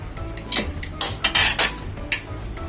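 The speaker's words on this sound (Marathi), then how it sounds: "गॅसवर टोप ठेवलंय." A metal cooking pot clanks onto a gas stove in a home kitchen while misal is being made, giving several sharp clatters and scrapes of metal on the grate, close and fairly loud, with no talking.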